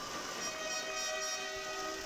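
Referee's whistle at a junior ringette provincial championship game, heard as a steady, sustained high tone held over a constant arena background for about two seconds.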